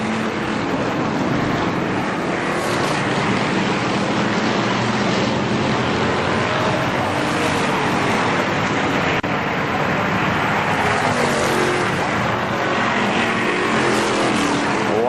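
ARCA SuperCars race cars roar around the Kil-Kare Speedway oval in 1998, a dense, continuous wall of engine noise at high volume with no break. An announcer's voice is partly buried beneath it.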